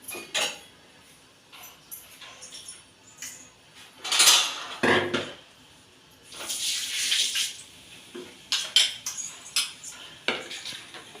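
A mixer grinder jar being washed right after grinding: clinking metal and dish clatter, splashing tap water and scraping, close and uneven in bursts, with quiet gaps between.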